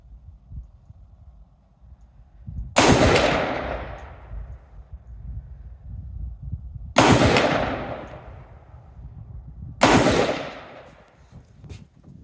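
Three loud, sharp rifle shots from a PSA 16-inch carbine-length AR with iron sights at an outdoor range, spaced several seconds apart, each cracking and decaying with a long echo over faint outdoor background.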